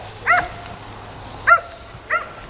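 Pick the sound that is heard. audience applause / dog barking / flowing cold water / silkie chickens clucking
dog barking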